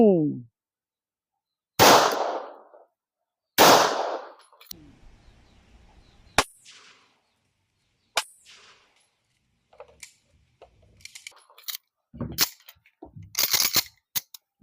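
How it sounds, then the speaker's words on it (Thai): Two sharp, loud 9 mm pistol shots crack a second or so apart into a wardrobe holding ten pieces of clothing, followed by scattered clanks and clatter, with a few brief voices afterward. "ยิงตู้เสื้อผ้าที่มีเสื้อผ้าอยู่สิบตัว ข้างใน ด้วยเก้ามมสองนัดบรรจุครับผม"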